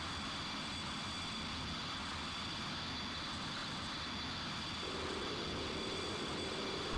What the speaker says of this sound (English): Pull back the power to disengage the afterburner.